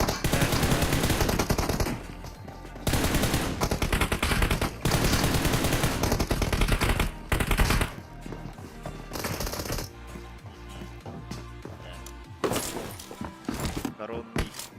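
Rapid gunfire from PUBG Mobile team deathmatch play, with bursts of automatic fire and sharper single pistol shots, loud and close, running in dense clusters with brief gaps, while someone talks over it at times.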